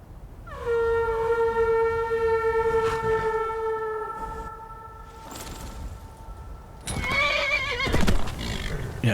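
A horse whinnies loudly with a long, wavering neigh, followed by a second sharp neigh and snorting near the end, with no talking, in the video game Skyrim Special Edition.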